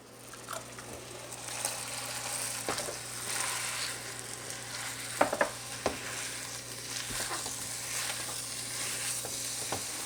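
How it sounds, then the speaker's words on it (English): Ground meat fries in a pan with a soft, continuous sizzle and crackle, broken by occasional scraping stirs and small clicks, all fairly quiet and without any talking. "We're going to cook our ground meat."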